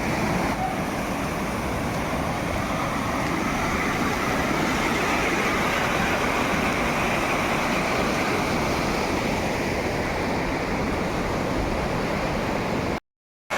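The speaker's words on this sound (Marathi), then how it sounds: "रस्त्यावर पाणी पाहू शकता किती पाणी चालू आहे" Floodwater after a cloudburst rushes along a village road near farm fields, a loud, unbroken roaring wash that runs steadily for over twelve seconds and then cuts off.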